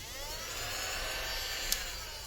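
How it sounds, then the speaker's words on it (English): A vacuum cleaner, shown among cash-stuffing supplies, runs with a steady, fairly loud motor whine and hiss that holds constant throughout, with one brief click near the end and no talking. "The vacuum, the infamous vacuum."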